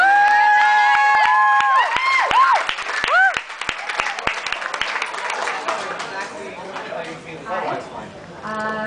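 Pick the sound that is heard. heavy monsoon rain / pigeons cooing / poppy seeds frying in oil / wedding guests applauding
wedding guests applauding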